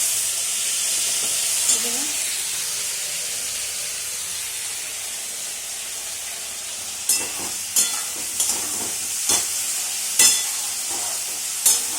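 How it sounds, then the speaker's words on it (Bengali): Spice masala of onion, garlic, ginger and tomato paste fries in oil in a pan for egg curry, giving a steady close sizzle with occasional sharp clinks of stirring. "ভালো ভাজা হচ্ছে"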